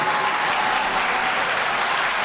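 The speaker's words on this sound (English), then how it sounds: "Give yourself a round of applause." A school audience applauds steadily in a hall, a dense and even wash of clapping that holds throughout.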